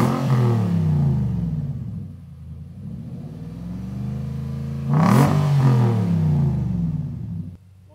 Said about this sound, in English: we have the redback exhaust system. Sounds mint. Under load and idling, sounds really good.